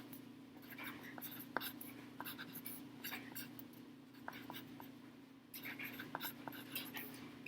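A pen or pencil scratches on paper as coordinate points for a geometry lesson are written down by hand, producing faint intermittent strokes and ticks against a steady low electrical hum, with quiet speech mixed in.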